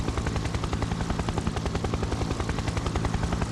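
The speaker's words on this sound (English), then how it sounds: "it's a massive bitch to fly a helicopter over fires, especially hovering" A helicopter hovers over fires in the game Fire Heroes, its rotor blades thumping in a rapid, even rhythm under a loud, continuous engine roar.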